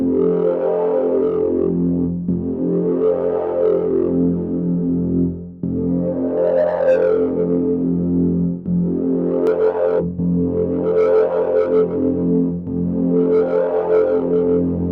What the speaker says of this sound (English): You can see how much is distorting the sound